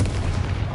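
Confringo explosive spell in Hogwarts Legacy: a brief, loud, booming blast with a dense low rumble, heard up close.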